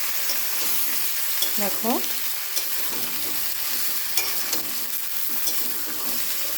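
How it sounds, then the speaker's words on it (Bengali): Vegetables sizzle and fry in a hot pan while being stirred for a fish curry, a steady crackling hiss with occasional scraping; a voice speaks briefly in the background. "সবজিগুলোকে ভালো করে নাড়িয়ে চাড়িয়ে কষিয়ে নেব।"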